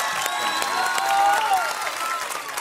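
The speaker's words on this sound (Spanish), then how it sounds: "Un aplauso para Carlos, por favor." Studio audience applauding and cheering at a live talent-show casting, steady and loud for under three seconds, with a sustained sung or instrumental tone running through the clapping.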